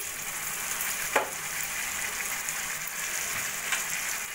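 Lentils and gobindobhog rice sautéed with spiced chicken in a pan give a steady, even sizzle throughout, with a couple of brief stirring scrapes and no voices.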